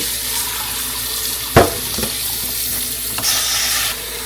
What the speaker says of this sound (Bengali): আমরা এগুলোকে একটু খুব ভালো করে ধুয়ে নেব একদম জলে